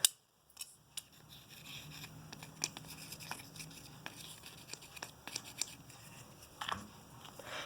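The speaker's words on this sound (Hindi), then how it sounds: "तो हम कुछ ड्रॉप्स कैंची के साइडों पे लगा लेंगे।" Small household scissors, freshly oiled with a few drops on the sides, worked open and shut in a quiet room, giving crisp metallic snips and clicks at an irregular pace, close and fairly soft.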